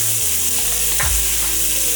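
Chopped Roma tomatoes, half a jalapeno and onion hit a hot pan, setting off a loud, steady sizzle with a low rumble underneath.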